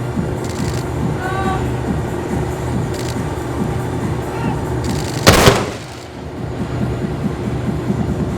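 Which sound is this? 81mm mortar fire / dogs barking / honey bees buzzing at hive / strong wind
81mm mortar fire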